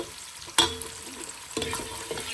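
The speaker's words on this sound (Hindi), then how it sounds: "बस ऐसे मैंने भूनना ही है" Chicken being stir-fried in a pan, a soft low sizzle with two sharper clanks of a spatula against the pan, quiet and close.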